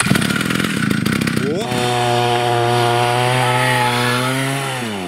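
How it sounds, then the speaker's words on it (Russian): A chainsaw engine drives a homemade sled snowmobile, first a rough sputtering idle, then revving up into a loud, steady high whine that holds and slowly fades slightly. "мы собрали просто обалденный снегоход из санок и бензопилы"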